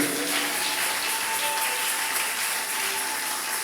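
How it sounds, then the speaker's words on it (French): Congregation applauding during a French-language church worship service, a steady, dense wash of clapping filling the room throughout without a break. "Est-ce qu'on peut applaudir l'Éternel des armées?"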